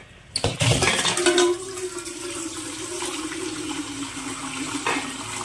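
Mineral water gushes from a sink tap into a container, starting with a sharp splash and then settling into a steady, close rushing flow.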